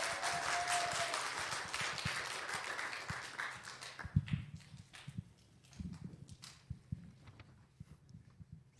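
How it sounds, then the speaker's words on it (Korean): Church congregation at a Sunday afternoon worship service clapping as a high school student walks forward, applause fading away after a few seconds into sparse claps, footsteps and shuffling in the hall. "나올 때 박수로 맞아주시기 바랍니다."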